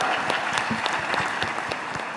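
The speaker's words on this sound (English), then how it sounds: "A big round of applause for all the teams for attempting to answer this question." Audience applause for the teams at a devotional quiz event, a brisk, dense patter of claps with some sharper individual hits, holding steady throughout.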